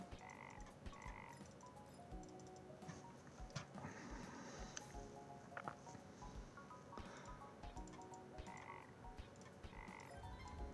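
Repeated frog croaks from the video game Legends of Idleon, a steady string of short croaking calls over busy game music and effects, with no talking.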